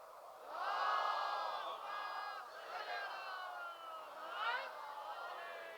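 A crowd at a Shia Muharram majlis loudly chants salawat in unison, a swelling chorus of many voices that rises, dips and surges again, sustained and close.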